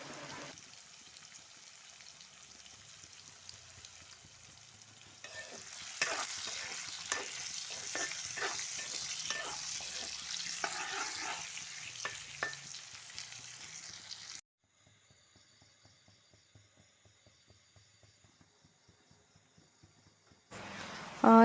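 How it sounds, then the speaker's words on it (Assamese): Boiled potatoes fry in oil left over from frying eggs, a steady close sizzle with stirring scrapes that grows louder around five seconds in, then drops to a faint crackle before a final loud burst. "সেই ডিম ফ্ৰাই কৰা তেলখিনিতে মই বইল কৰা আলুখিনি অলপ ফ্ৰাই কৰি লৈছোঁ"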